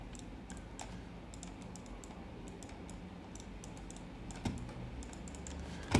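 Computer keyboard typing at a trading desk, quiet clusters of key clicks tapped in short bursts over a low background hum, with no voices.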